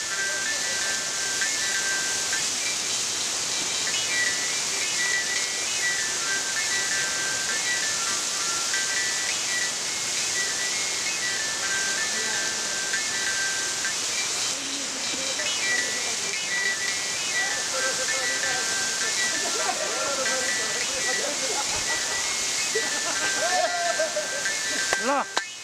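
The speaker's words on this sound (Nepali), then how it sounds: "अब अहिले टेम्के मयुङ चारमा रहेको यो महावीर झरनामा" Mahabir waterfall in Temke Maiung, a canyoning site, gives a continuous broadband roar and hiss through the whole stretch. Voices and a few thin whistle-like tones sit faintly beneath the rushing water.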